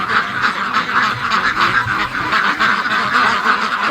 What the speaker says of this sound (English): 2 Canada geese just flew by